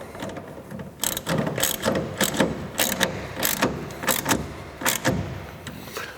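Ratchet strap clamp being tightened on a soft roll-up tonneau cover over a pickup bed, a run of quick repeated clicking bursts in an uneven rhythm, close and fairly loud with no talk.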